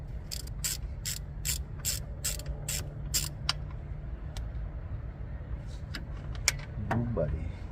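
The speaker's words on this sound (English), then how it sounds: "So I'm gonna unbolt it from the block and then disconnect that guy." A ratchet wrench clicks in quick repeated bursts while unbolting a fuel pump from the engine block of a 1972 Toyota Corolla TE28, then stops, leaving faint metallic taps and clinks close by.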